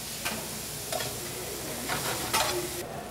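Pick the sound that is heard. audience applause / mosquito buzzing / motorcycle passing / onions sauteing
onions sauteing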